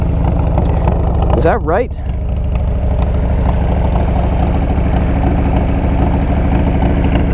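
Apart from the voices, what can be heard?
1997 Harley Ultra Classic Evo 80 cubic inch motor running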